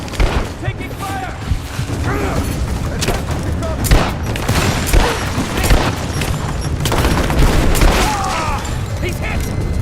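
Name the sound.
gunfire in Tomb Raider video game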